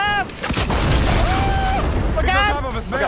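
Rocket explosions in the Fortnite video game, a rumbling series of booms and blasts with whistling pitched effects, heard loud and dense under excited talk.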